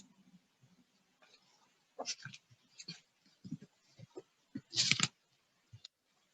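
Computer keyboard typing, heard as sparse, quiet clicks and taps scattered irregularly, with small clusters of keystrokes between pauses and no voice.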